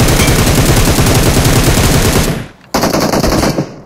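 Automatic rifle fired in one long no-recoil spray in a video game, a rapid, loud, rhythmic burst of shots that cuts off briefly and then resumes in a second short burst.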